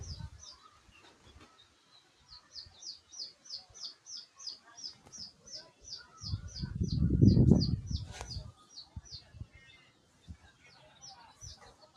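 Desi tiger chickens on a farm give repeated high, short calls in a steady series, with a louder low rumble of movement swelling midway through.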